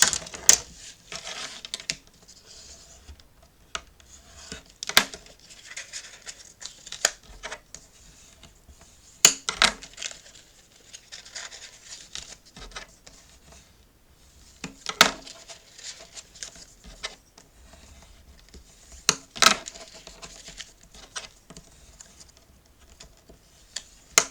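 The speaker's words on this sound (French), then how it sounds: "Je vais venir marquer tous ces plis." Fold lines are scored into paper for a pop-up album with a scoring tool, producing quiet scratchy strokes and light taps that recur at intervals of several seconds, close and faint, with no talking.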